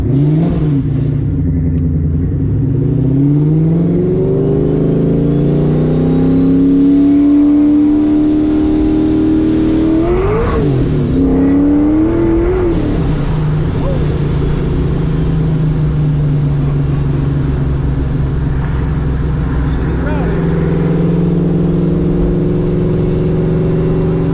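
A 1998 Ford Mustang SN95 Cobra engine runs loud and close for over twenty seconds, its pitch rising and falling through several revs, with a sharp throttle blip around the middle and a steady rumble between.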